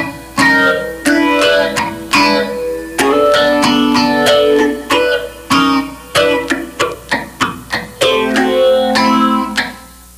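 Funk guitar chord vamp played slowly, with short stabbing chords and muted percussive strums in a choppy syncopated rhythm, loud and clean with distinct gaps between hits and no talking.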